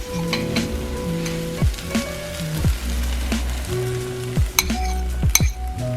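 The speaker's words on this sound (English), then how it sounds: "I'm gonna go ahead and add my eggs that I have scrambled up here." Scrambled eggs poured over onions and spinach in a hot skillet, sizzling and frying steadily up close, with occasional clinks and scrapes of a utensil stirring against the pan.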